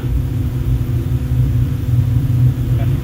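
Deep, steady first-stage rocket engine roar from a Minotaur I launch at MARS, Virginia, a continuous loud low rumble with no pauses, heard alone.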